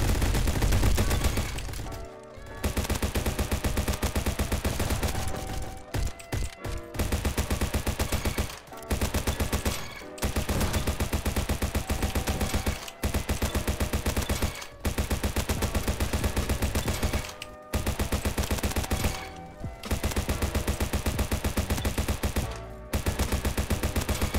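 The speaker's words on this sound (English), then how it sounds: "Oh my god, I shot him through the walls." Near-constant bursts of automatic gunfire from a mini AK in a shooter video game, dense and loud, broken by several short pauses between sprays.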